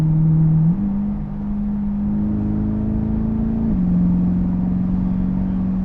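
A 2020 C8 Corvette with a Fabspeed Valvetronic exhaust drones loud and close on wet roads, its engine note holding steady with a couple of small stepped rises and drops in pitch, with no one talking.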